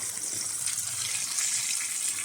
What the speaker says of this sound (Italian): E oltre alla passata metto anche mezzo litro di acqua.